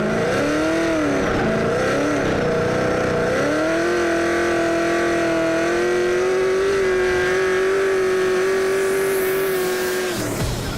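A Nissan 350Z drift car with an 800-horsepower supercharged LS3 V8 and Magnuson supercharger, engine held at a loud, steady high-revving drone with shifting pitch and tire squeal, close and continuous, no talking.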